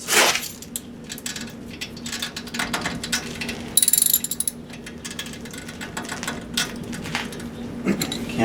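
Small 14mm socket wrench on a 1991 Ford F-150 brake line fitting, ratcheting in repeated close clicking bursts with metallic clinks and brief sharp rattles, loud and up close, without speech.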